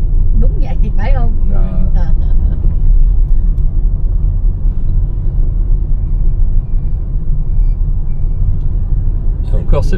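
An old car on the road in Vietnam, its engine a continuous low rumble heard from inside, with people talking over it at the start.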